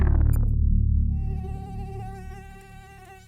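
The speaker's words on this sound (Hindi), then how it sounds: "मच्छर को काटना ही है तो चुपके से आकर काट ले, बस कान के पास गाने ना गाए" A high, thin mosquito whine buzzes close by, wavering steadily over a low rumbling drone that fades as the whine continues alone.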